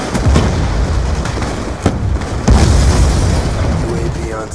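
Sticky grenades and other explosives go off in Call of Duty: Black Ops 2 online matches, with loud, close booms at about three points and a constant rumble of battle between them.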